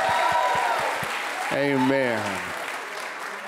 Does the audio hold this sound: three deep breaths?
no